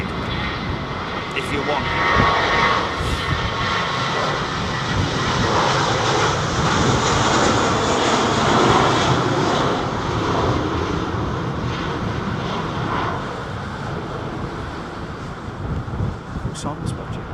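Airbus Beluga aircraft engines roar at Heathrow Airport, a loud, steady broadband rumble and whine that swells in the middle and eases near the end, with a person talking over it.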